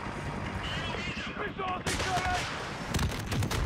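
Gunfire rings out in Call of Duty: Modern Warfare, with repeated loud shots and bursts at close range and the weapons growing heavier toward the end, mixed with game voices and other sounds.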